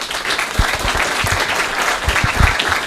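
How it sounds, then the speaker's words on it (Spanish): An audience at a book presentation claps in a dense, steady round of applause, close and loud throughout. "recién aplaudieron"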